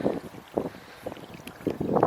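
Gusty wind buffets the microphone at a quiet countryside nature reserve near a village, coming in loud rumbling bursts that rise and fall throughout.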